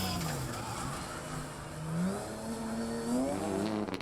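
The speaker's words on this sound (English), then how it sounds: "using the car's power around the circuit and pulling off this beautiful slide at the end of the stage" A Porsche Cayman rally car at Knockhill circuit slides with its engine note rising and falling and tires squealing, loud and close throughout.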